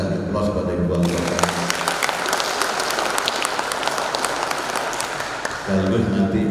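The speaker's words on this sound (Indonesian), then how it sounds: "Kita kasih aplaus kepada Ibu Wali Kota." A room of dinner guests at a mayor's gala banquet breaks into sustained, dense applause. The clapping follows a voice over a sound system, and the voice returns as the applause tapers.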